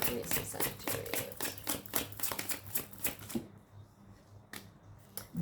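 Rapid, crisp tarot card riffling and snapping in a fast burst, then a few scattered taps as it slows, close to the microphone.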